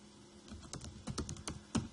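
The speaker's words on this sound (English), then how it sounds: "you simply type with your keyboard whatever you wanted to" Keystrokes on a computer keyboard during a website-editing demonstration, a run of irregular clicky taps spread across two seconds with one firmer stroke near the end, close and clear with no talking.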